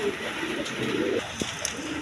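A high-flying Giribaz pigeon gives a soft, brief cooing call at close range, set against faint background noise and a hint of voices.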